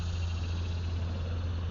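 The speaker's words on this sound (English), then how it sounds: "cicadas are in full force." Insects drone steadily in full summer chorus, a constant high buzz from cicadas that holds without breaks, with a low hum running beneath it.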